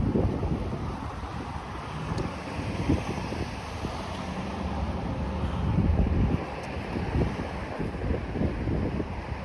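Gusty wind outdoors in a park buffets the microphone with a steady rushing roar, swelling louder in bursts around the middle.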